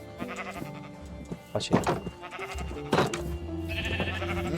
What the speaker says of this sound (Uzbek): Endi qo'ylar ko'paytiramiz. Kichkina qo'ychalar.